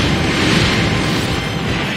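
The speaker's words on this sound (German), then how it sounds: "Da explodieren sie alle." Dense, rumbling video game explosions from Dynasty Warriors: Gundam 3 roll on continuously, a loud wall of booming blasts with no pauses or voices.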